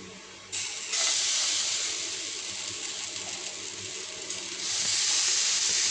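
A paratha sizzles in ghee on a hot pan, giving a steady close hiss that swells abruptly once it is laid down, dips slightly and then rises again.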